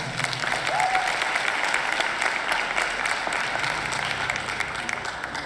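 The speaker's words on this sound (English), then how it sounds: "Ladies and gentlemen, another round of applause for Lenovo South Africa." Audience applause at a university student services awards ceremony honouring Lenovo South Africa, a dense steady wash of many hands clapping that holds at an even level throughout.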